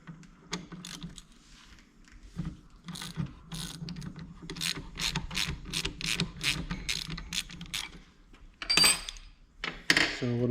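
Ratcheting and wrench clicks ring out as the rebound cap on a 2022 Beta 300 Race Edition KYB fork is broken loose in a vise, a series of sharp metallic bursts with brief pauses and a few louder clanks near the end.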